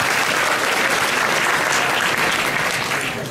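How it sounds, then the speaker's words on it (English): Steady applause from a gala audience for the evening's MCs, a dense sustained clapping that fills the room and fades slightly at the end. "let's put a round of applause together for the wonderful MCs this evening"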